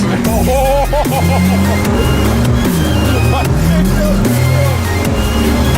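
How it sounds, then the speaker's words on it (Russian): A UAZ fitted with a 1JZ engine drifts in tandem at a winter drift competition. Engine revs rise and fall in repeated sweeping bursts, loud and close, while excited voices shout over them. "Парный дрифт!"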